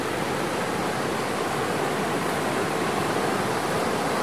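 A clear mountain valley stream flows right beside a campsite, giving a continuous close hiss and rush of water that stays even throughout, with no talking.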